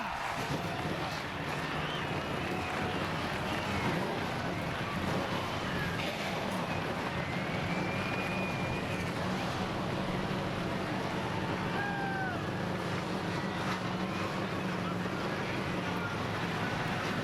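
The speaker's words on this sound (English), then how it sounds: "Engines have fired, getting ready to get things started." Stock car engines idle and run before a 2010 NASCAR Nationwide Series race at Gateway, forming a steady, dense, distant roar that holds level throughout, mixed with wind-like open-air noise.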